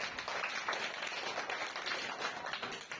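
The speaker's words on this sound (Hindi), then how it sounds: "इनके लिए जोरदार तालियां" A school audience gives quiet, steady clapping for a student speaker at a class activity, a soft patter of many hands heard from a distance without talk.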